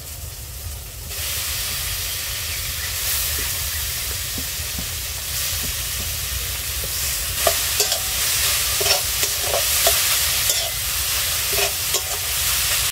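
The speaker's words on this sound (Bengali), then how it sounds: "মশলাটা ভালো করে কষিয়ে নেব। গ্রেট করে রাখা বিট আর আলু এটা দিয়ে দেবো।" Spice mix with grated beet and potato frying in a pan, a continuous close sizzle and hiss broken by repeated scraping stirs that grow busier toward the end.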